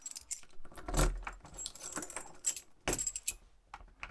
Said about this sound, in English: If I get the keys out, there's the keys.